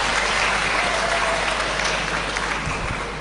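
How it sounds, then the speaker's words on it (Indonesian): Audience applause for IKIP Bojonegoro, a dense, steady wash of clapping from a crowd that holds loud for about three seconds and only begins to thin at the end. "kita tepuk tangan untuk IKIP Bojonegoro"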